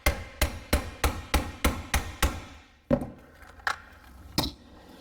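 A hammer striking a stuck part of a blower motor assembly during teardown: a quick run of about eight sharp, evenly spaced metallic blows, then three more spaced-out hits, close and clear with no talk.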